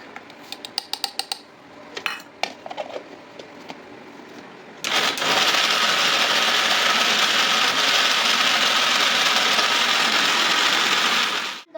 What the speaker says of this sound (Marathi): मिक्सरमध्ये टोमॅटो टाकून घेऊया